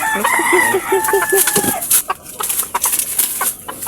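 A native labuyo rooster crows once in a breeding pen, loud and near at the start, followed by quieter rustling and scattered clucks.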